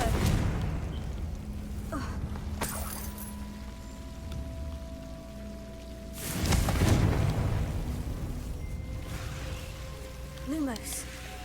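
Confringo spell explosions in Hogwarts Legacy: several heavy booming bursts, the strongest mid-clip, each with a rumbling tail over a constant background roar, with brief voiced sounds in between.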